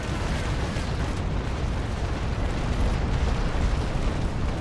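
Naval cannon fire in a frigate duel fills the scene, heavy continuous broadside booms and rumbling blasts rolling over one another without any quiet gaps, loud and close.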